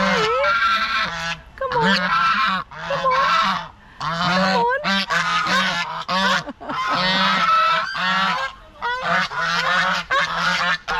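A goose at a cafe honks loudly and repeatedly at close range, harsh nasal calls in rapid bursts separated by short pauses.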